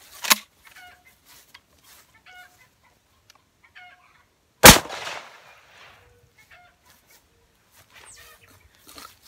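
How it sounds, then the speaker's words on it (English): A Mossberg 500 12-gauge pump shotgun with an 18.5-inch barrel fires Rio 2¾-inch buckshot, giving two sharp, loud blasts about four seconds apart, with faint bird-like clucking sounds in the quiet between. "we're gonna shoot a Rio 2¾-inch double lock buckshot"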